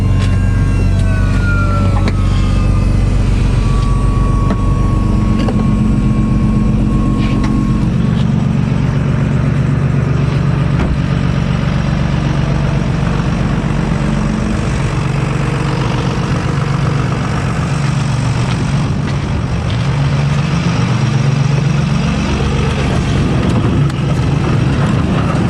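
A warm diesel engine without glow-plug heating cranks with effort, then catches and settles into a steady, loud, close idle with a faint whine over the first seconds and no voices.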